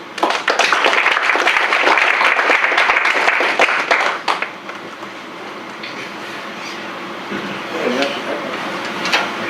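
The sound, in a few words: audience applause welcoming guests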